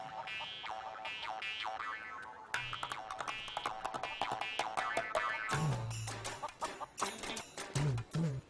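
Chicken clucking in a Tamil film scene, a busy run of repeated clucks and squawks with harmonic calls, fairly loud and continuous, with a few low sustained tones underneath.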